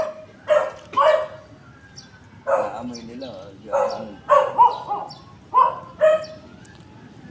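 A small dog barking and yipping in short bursts, several sharp barks in quick pairs with brief pauses, nearby and moderately loud.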